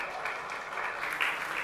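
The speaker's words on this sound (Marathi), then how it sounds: "तर एकदा स्नेहलताईसाठी जोरदार टाळ्या" An audience at a film trailer launch event applauds for the debut director, a brief burst of moderately loud, dense clapping with no talking.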